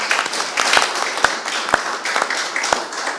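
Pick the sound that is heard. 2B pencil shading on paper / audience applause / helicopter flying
audience applause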